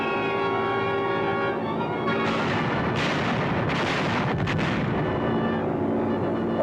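Bombs bursting from an aerial bombing run over Sicily, heavy rumbling blasts and crackling detonations overlapping in a dense, loud, continuous barrage with several sharper bursts.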